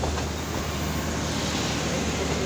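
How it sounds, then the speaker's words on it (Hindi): A train pulls into a railway station in Peshawar with a loud, steady rumble of rolling stock, a continuous dense noise that holds even throughout with no voices. "ट्रेन अब पहुंच चुकी है स्टेशन पर।"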